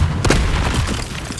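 Hogwarts Legacy spell effects: a loud booming burst of magic with crackling, sparkling noise, followed by a second softer whoosh, all in a continuous dense wash.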